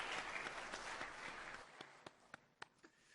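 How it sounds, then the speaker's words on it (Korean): A church congregation applauds in thanks on Parents' Sunday: dense, sustained clapping from many hands that thins out toward the end, leaving a few separate claps. "감사의 박수 한번 보내드리겠습니다"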